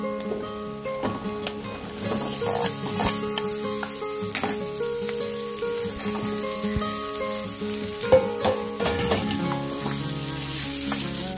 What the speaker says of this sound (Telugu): అవి కూడా వేసుకొని బాగా ఫ్రై చేసుకుందాం.